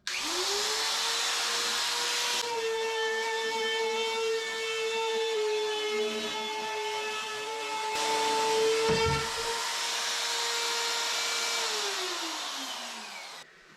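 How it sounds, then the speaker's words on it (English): A Rotozip spiral saw cuts a hole in a plastic Hobie Passport kayak hull, a loud steady high-pitched whine that holds for several seconds, dips in pitch under load, then spins down. "There's a lot of tools out there that cut plastic. Got a bit on here that's good for that, and we'll go ahead and make our cut."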